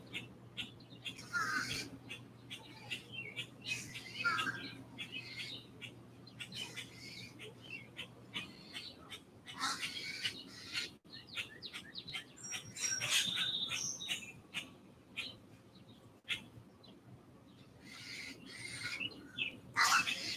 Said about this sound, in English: It's like Attack of the Mockingbirds here.